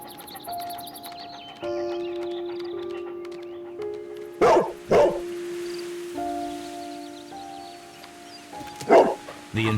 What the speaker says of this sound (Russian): забавный пес.